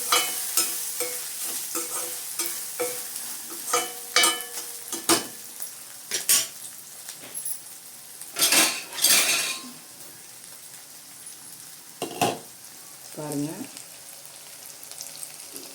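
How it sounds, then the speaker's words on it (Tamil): Ginger garlic paste sautéing in a pan over a low flame: a soft sizzle broken by intermittent spatula scrapes and metal clinks against the pan, close up, with no speech over it. "சிம்மிலேயே போட்டு தான் ஃப்ரெண்ட்ஸ் நான் வதக்குறேன்"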